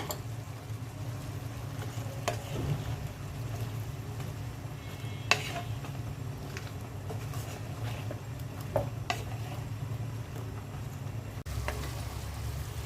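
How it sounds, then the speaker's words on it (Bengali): Vegetables stir-fried in a cooked spice mix in a pan, with a low steady sizzle and occasional spatula scrapes and taps, fairly quiet and close with no talk. "সবজিটা অনেকক্ষণ কষিয়ে নিলাম"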